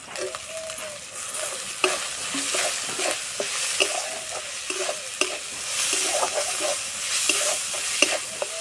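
Chopped green chilli and tomato sizzle and fry in a pan while being stirred, with repeated scraping strokes over a steady close sizzle and no talking.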